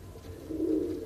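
Old Dutch Capuchine pigeon cooing in a low, throaty burst that swells in the second half, fairly close and alone with no talk.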